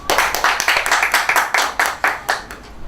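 Applause for a graduating student at an education graduation ceremony: a small group claps in fairly even bursts, about ten distinct swells over a few seconds, close and moderately loud.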